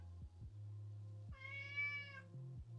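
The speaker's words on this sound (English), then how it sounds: "You just gonna meow, or you gonna come hang out?" House cat giving a single clear, drawn-out meow, close and fairly loud, set against a quiet room with a low steady hum and a few soft thumps.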